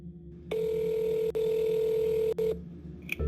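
A telephone handset sounds a steady ring tone for about two seconds with brief clicks as it is dialed, the call connecting in a quiet room during nursing home calls, with no talking.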